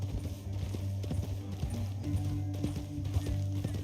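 Horse hooves clip-clop steadily in Red Dead Redemption 2, with a low droning music bed underneath and a faint voice briefly in the background.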